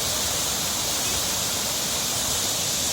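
Shypit waterfall roaring steadily, a dense, loud, unbroken rush of falling water filling the whole clip with no other sounds.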